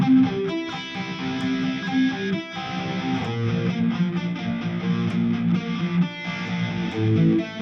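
Distorted electric guitar in drop D tuning, chords articulated with a pick in short choppy strokes and brief muted gaps, loud and steady, no talking.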